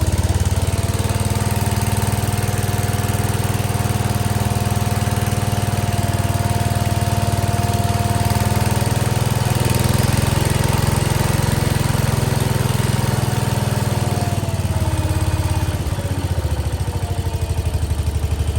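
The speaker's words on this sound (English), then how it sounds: "Man, listen to it idle." A 1968 Case 155 garden tractor engine idles steadily and loudly up close, a continuous rough mechanical drone with a small lift in pitch around the middle.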